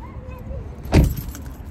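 Keys jangle and a car door thumps once as someone gets out of a car, close by, with a faint rustle before and after.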